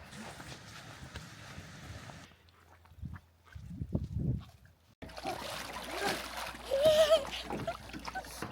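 Splashing water as people wade into a local lake for a dip, with broadband bursts of sloshing and splatter that swell louder toward the end, joined by brief voices and quieter gaps in between.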